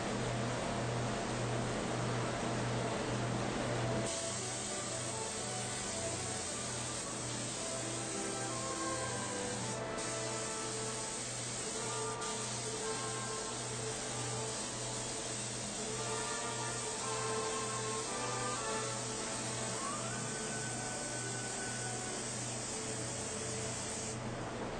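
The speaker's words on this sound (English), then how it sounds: "For more specialized applications, hand spraying can be used." A steady hiss of hand spraying a finish onto leather runs continuously and closely, over a low mechanical hum.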